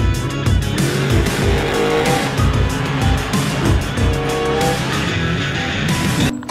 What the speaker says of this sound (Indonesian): ini adalah mobil monster teman-teman, mobil balap